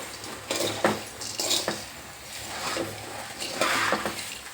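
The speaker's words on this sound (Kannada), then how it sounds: "ಈಗ ಸಣ್ಣ ಉರಿ ಇಟ್ಟು ಇವನ್ನ ಫ್ರೈ ಮಾಡ್ಬೇಕ್ರಿ" Food frying on a low flame in a pan, with soft clinks and stirring scrapes over a faint steady sizzle, close by and fairly quiet.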